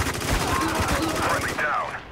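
Rapid automatic gunfire in the Spec Ops: The Line shooter game, a dense burst of rattling shots under heavy combat, continuous and fairly loud for about two seconds before trailing off.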